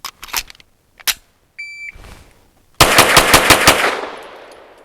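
A 9mm pistol fires Fiocchi 115 grain rounds, a soft-shooting load: a few loud isolated reports and an electronic beep, then a rapid string of about eight sharp shots that leave a fading ring.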